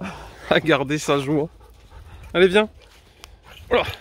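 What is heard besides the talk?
Australian Shepherd dog panting and whining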